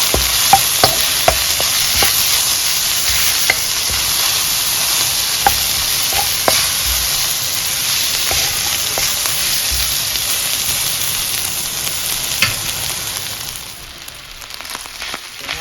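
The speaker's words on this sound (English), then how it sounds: "Next, I'm gonna add my curry. And we're gonna let it cook." Curry prawns stir-frying in a hot pan, a steady loud sizzle with a bright hiss and scattered scraping and stirring clicks, fading slightly toward the end; no talking.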